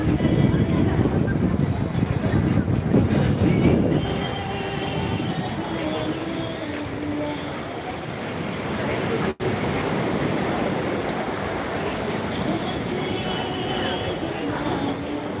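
Sea waves roll onto Old Digha beach at night, a constant loud surf roar mixed with wind buffeting the microphone, with one brief sharp knock midway.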